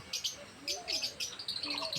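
Lovebirds chirp rapidly in short, high-pitched bursts, a close and busy chatter with no talking.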